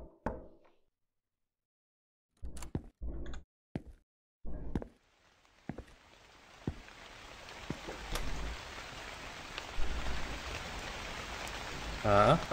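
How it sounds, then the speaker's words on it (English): A few sharp knocks and thuds sound in near silence in the J-horror video game The Convenience Store, then rain fades in and builds into a steady patter with occasional taps. "nice relaxing stroll through the rain"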